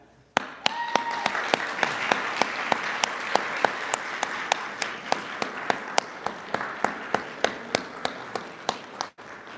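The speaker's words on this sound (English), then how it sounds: "I want you all to give them a huge clap." A large crowd at a white coat ceremony applauds steadily for several seconds, a dense wash of clapping with a few sharper individual claps standing out.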